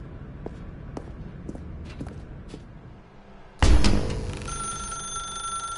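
In The Stanley Parable, a telephone starts ringing abruptly partway through. Its bright, sustained ring is loud and sharp after a stretch of muffled ambient room tone with faint ticks.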